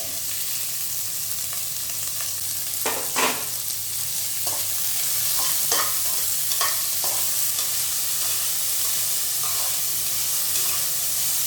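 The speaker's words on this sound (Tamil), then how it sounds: "பாருங்க நல்லா வதக்கிடலாங்க வெங்காயத்தை" Steady sizzling of onions frying in a pan, with occasional stirring clinks and scrapes over a constant hiss.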